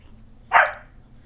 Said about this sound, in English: there goes the dog needing to be let in